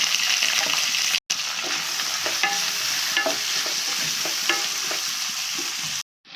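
Sliced onions and green chillies sizzle and crackle steadily in hot oil for a kurma, with occasional stirring scrapes and a brief pause near the start.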